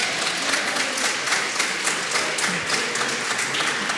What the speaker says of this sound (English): So nice when the other side keep clapping every time I stand up